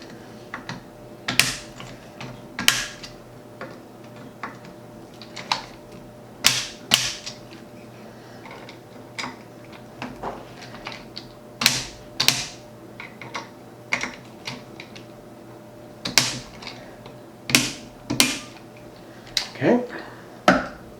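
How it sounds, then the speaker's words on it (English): Repeated ratcheting clicks of a wrench tightening bolts during a Vortex PST II install, sharp irregular bursts of clicking close up, spaced a second or two apart over a quiet workshop background. "we're going to adjust the wrench. And tighten them down."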